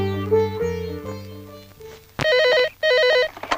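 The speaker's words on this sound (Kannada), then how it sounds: "ಏಯ್, ಪಾರುಕ್ ಫೋನ್ ಬಂದಿದೆ ಕಣೆ." In a Kannada movie scene, a telephone rings for an incoming call, loud electronic warbling bursts in two close pulses after a stretch of musical tones.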